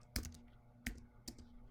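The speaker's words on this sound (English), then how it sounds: "I'm gonna type in the title of my trailer" Three distinct keystrokes on a computer keyboard, typing a trailer title, as quiet, close clicks spaced about half a second apart with nothing else audible.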